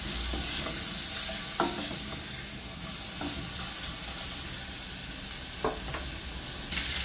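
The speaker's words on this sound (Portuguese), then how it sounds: "Aí eu vou deixar vou dar uma boa fritada nesse bacon, tá?" Bacon sizzles and spits steadily in a hot pan, rendering its fat, with a few brief clinks and scrapes from a utensil stirring it; no one speaks.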